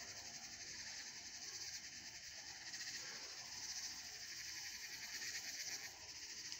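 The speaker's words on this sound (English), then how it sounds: "Well, the 17-year cicadas are here." A chorus of 17-year periodical cicadas, a faint, continuous high droning buzz with a pulsing texture, steady and distant throughout.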